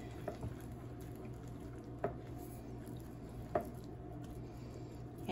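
Strawberry cookie dough mixed by hand with a spoon in a bowl, soft wet squishing under a low background hum, with a few faint knocks of utensil against bowl, quiet and close.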